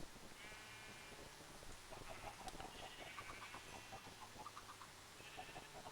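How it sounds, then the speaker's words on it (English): Soft, rapid clucking from several chickens chatters on and off over a faint, hissy background, distant and quiet. "Go on, go talk to each other, you silly chickens."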